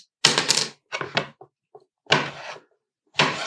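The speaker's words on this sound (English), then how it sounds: "you want to cut up the portobello mushroom." Portobello mushroom being sliced into thin pieces with a knife on a board, a few crisp cutting strokes in short bursts with pauses between, close and clear.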